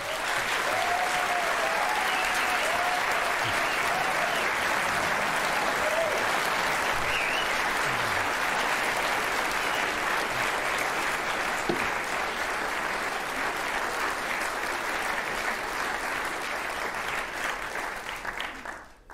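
A studio audience on a German talk show welcomes a guest with sustained, dense applause that keeps an even level for nearly twenty seconds before tapering slightly at the end.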